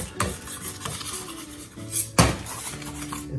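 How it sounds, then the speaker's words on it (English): A metal bench scraper scrapes and taps against a work surface while flour is worked in around and under sourdough bread dough, giving close, repeated scuffs with a sharp clack near the end, no voices. "if we have the bench scraper, we're going to kind of bring some flour around into the dough"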